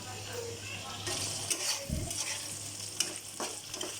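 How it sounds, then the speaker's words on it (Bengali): Onion, capsicum and carrot frying in a pan, a soft, steady sizzle broken by spoon-stirring scrapes and a few light clinks of utensils against the pan. "এখন পেঁয়াজটা সামান্য ভাজা হয়ে গেলে পর্যায়ক্রমে অন্য সবজিগুলো দিয়ে দিব।"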